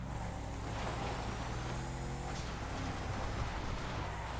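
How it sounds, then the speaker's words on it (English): Engine of a Vapid Bobcat XL pickup truck in GTA 5, a steady broadband drone with a faint high turbo whine running continuously, heard alone. "This truck does sound pretty good with the turbo on it. That little whine."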